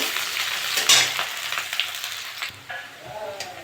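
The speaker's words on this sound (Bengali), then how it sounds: "একটা তেজপাতা দিয়ে দেবো, পেঁয়াজ দিয়ে দেবো, ভালো করে ভেজে নেব।" Onion and a bay leaf frying in oil in a pan, a loud close sizzle with stirring scrapes that thins out toward the end.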